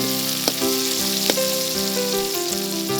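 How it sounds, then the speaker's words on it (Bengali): Onion, chili and garlic fry in hot oil, a close, steady sizzle with a few sharp pops and crackles, while music plays in the background. "তেলে এখন ভাজা হবে পেঁয়াজ, মরিচ, রসুন।"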